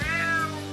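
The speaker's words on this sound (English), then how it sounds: "Damn cat." A single drawn-out cat meow from a video game, clear and close, with a rising then falling tone and a steady low hum behind it.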